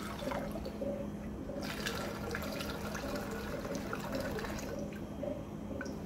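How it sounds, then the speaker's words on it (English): Water containing a little brown sugar pours steadily into a container while agar plates are being prepared, a continuous close splashing fill with a soft trickle and no talking. "I'm actually gonna be slick and just add the brown sugar to the water that I'm gonna add."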